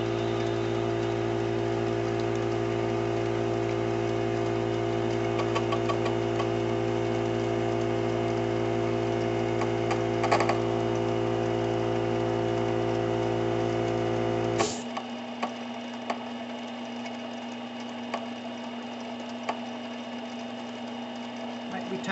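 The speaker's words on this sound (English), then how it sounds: "My air compressor turns off soon." An air compressor runs steadily with a loud, constant mechanical hum for about fifteen seconds, then shuts off abruptly, leaving a quieter background with a few faint clicks.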